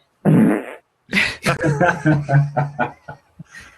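A fart sound effect plays loud and close in an aviation podcast, one long raspy blast followed by a rippling series of shorter sputters.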